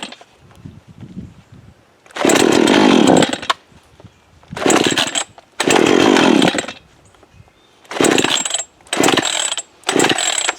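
Gas chainsaw near a Harbor Freight hydraulic log splitter, revving loudly in several bursts of about one to two seconds each, separated by quieter idling gaps.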